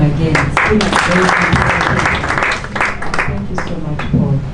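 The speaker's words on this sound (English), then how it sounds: "Please clap for him again." An audience at an investment presentation applauds a speaker, giving a sustained round of dense clapping that thins slightly toward the end, with some voices mixed in.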